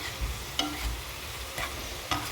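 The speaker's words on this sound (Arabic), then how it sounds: "ثم تخلطي بيديك" Almond sugar dough mixed by hand, with soft repeated squishing and rubbing strokes of hands working the dough, close and quiet, about four pulses in a short span.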